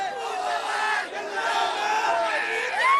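Party workers cheer and shout together in a victory celebration after a municipal council election in Baramati, a dense crowd roar held steady for several seconds with rising voices.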